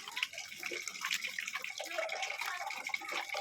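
Flour dough being washed under running water, a steady trickle and splash with small drips and squelching as the dough is worked by hand, close and fairly quiet, with no talking.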